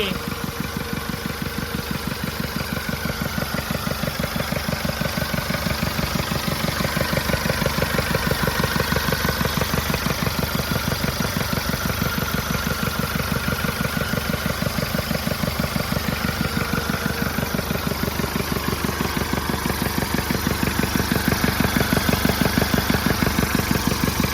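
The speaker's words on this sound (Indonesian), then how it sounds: "Nah, ini mobilnya, mesinnya. Solar 2400 cc." A 1981 Jeep CJ7 with a 2400 cc diesel engine idles steadily and close by, its even rhythmic clatter continuing throughout with faint talk underneath.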